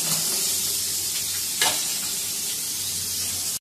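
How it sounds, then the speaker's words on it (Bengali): Hilsa fish tails fry in a pan with a loud, continuous hissing sizzle and a brief sharper crackle burst midway, with no voices over it. "লেজাগুলো ভাজছি, লেজাগুলো দিয়ে ভর্তা করবো।"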